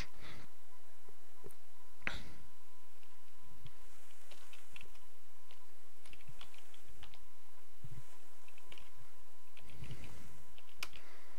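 A password being typed on a computer keyboard: scattered, fairly quiet key clicks in short bursts and single taps, close up in a quiet room with a faint steady hum.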